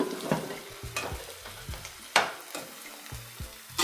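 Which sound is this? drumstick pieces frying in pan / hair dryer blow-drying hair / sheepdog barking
drumstick pieces frying in pan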